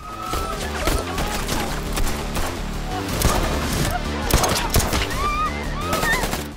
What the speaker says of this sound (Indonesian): terjadi aksi baku tembak yang sangat menegangkan